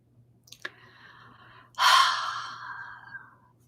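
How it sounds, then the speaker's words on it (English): Deep breathing during a guided breathing meditation: a brief sharp intake, then a long, loud, close exhale that slowly fades in a quiet room. "All right, take a deep breath."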